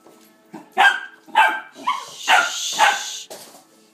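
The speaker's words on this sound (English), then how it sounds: "Okay, Lexi, that's enough barking, though." A dog barks repeatedly up close, five or six loud yappy barks in quick succession with whiny, strained tones.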